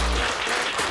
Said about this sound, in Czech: Dámy a pánové, potlesk pro Jana Krause.